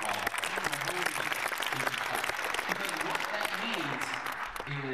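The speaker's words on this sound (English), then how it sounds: "They deserve a round of applause." Audience applause at a business gathering in Prince George's County, a steady wash of clapping from a room-sized crowd with voices murmuring underneath.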